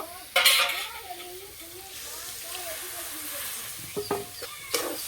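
Gram flour batter poured into a hot pan with cabbage, a sharp burst of sizzle at the start and another near the end, while a person talks over the quieter frying in between.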